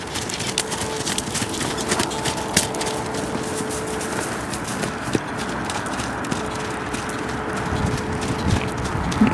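A buckskin tobiano walking horse moves in a smooth gait, its hooves giving a fast, even patter of clip-clops over a steady outdoor hiss, moderately distant, with no speech.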